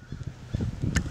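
Wild ducks by a river give a brief run of low honking, quacking calls, with one sharper call near the end, fairly close and not very loud.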